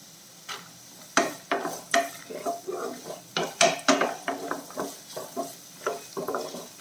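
Onions and dried red chillies sauté in a pan for tomato chutney, with a spoon repeatedly scraping and clinking against the metal in an irregular rhythm over a soft sizzle, close and clear, no talking.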